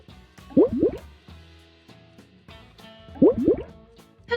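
Two bursts of bubbly, gurgling plops from a slowed, louder bubble sound edited in Scratch, drawn out and fairly loud, separated by a short pause with faint tones in between.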